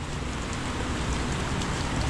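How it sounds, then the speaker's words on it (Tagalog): Heavy rain falls during a road trip toward a river in Pampanga, a dense, steady hiss and patter that holds loud and unbroken throughout, with no voices. "Grabe po kasi yung ulan."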